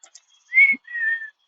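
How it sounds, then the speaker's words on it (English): A person whistles outdoors to call an animal, two clear notes, a short rising whistle followed by a longer steady one, close and loud against silence. "Okay, I'm gonna have to whistle."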